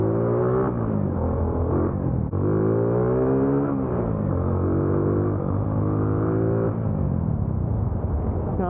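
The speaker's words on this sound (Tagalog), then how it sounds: "Painitin nyo yung makina para mag-evaporate yung mga natitirang tubig." A Kawasaki W175 SE motorcycle engine runs continuously, with rising and falling revs over a steady rumble, close and fairly loud, as if heard while riding on a road.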